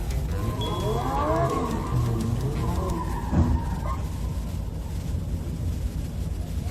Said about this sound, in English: Acting carelessly and drifting on a wide intersection leads to unnecessary accidents.